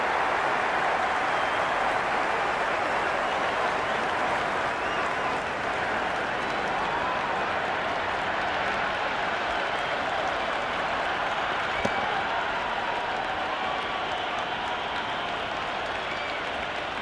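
Steady, dense crowd applause and murmur from a cricket stadium in the Cricket 26 video game during a Pakistan vs New Zealand match, a continuous roar filling the whole stretch with no break.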